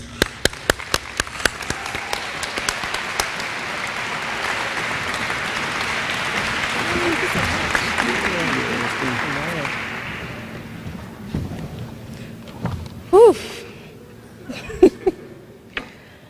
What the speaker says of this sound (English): Ladies and gentlemen, please give a round of applause to Ms.